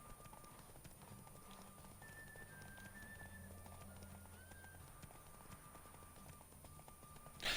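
Horse hooves clip-clop steadily through a horse race in The Witcher 3, a continuous galloping rhythm held at moderate level under game music and ambience, with a brief louder burst at the very end.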